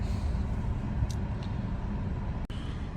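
A steady, low engine rumble idles continuously, with a faint brief click near the end and no voices.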